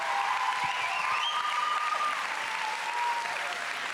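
Sustained, dense applause from an audience at a national final fills the whole stretch at steady volume, with a few tonal whistles or cheers rising above the clapping.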